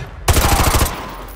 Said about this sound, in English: Roach, take the shot. Open his leg.